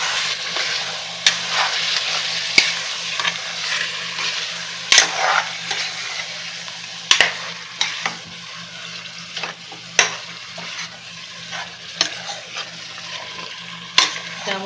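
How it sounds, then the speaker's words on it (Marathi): Mutton sautés in oil in a pan over a medium flame for dum biryani. A continuous sizzle runs under regular scraping strokes of a spatula, spaced about a second or two apart, with no talking. "मटण चांगलं परतून घ्यायचं आहे 1-3 मिनिटं."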